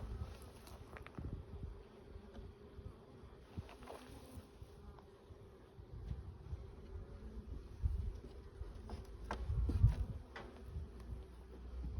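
Faint, thin buzzing of a few honey bees around a hive that swarmed in August. The low, uneven hum stays quiet and distant, with no voices.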